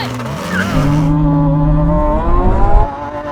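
Three supercars launch off the line in a drag race: a Lamborghini Aventador SVJ, a Ferrari 812 Superfast and a Porsche Turbo S. Loud, close engine roars climb in pitch alongside tire squeal for a few seconds.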